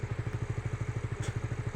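Motorcycle engine chugging at low speed in a steady pulsing rhythm while descending a slippery, moss-covered slope, close and fairly quiet, with no talking.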